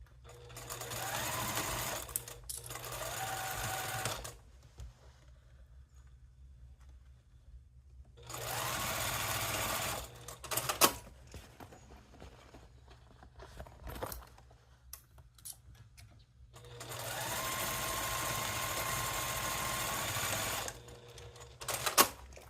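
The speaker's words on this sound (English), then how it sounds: "after you have sewed the box corners" Sewing machine stitching the box corners of a cork pouch, running in three loud sustained bursts separated by quieter pauses with small handling noises.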